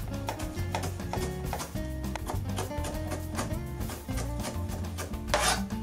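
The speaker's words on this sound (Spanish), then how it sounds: "Ahora vamos a picar medio pimentón." Half a bell pepper is chopped with a knife on a cutting board: many rapid, rhythmic chopping taps with some scraping, close up and continuous.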